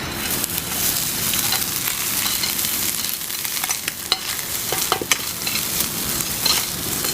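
Coconut stuffing tossed and fried in clarified butter in a pan, a steady close sizzle with scraping stirs and occasional clinks of a utensil against the pan, no voices.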